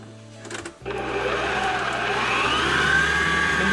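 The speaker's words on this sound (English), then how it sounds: "So I will be putting onto the machine and whipping it up." Egg whites for macarons whipped in an electric stand mixer: after a brief pause the motor starts and holds a steady, loud whirring drone with a rising whine as the beater spins, close by and continuous.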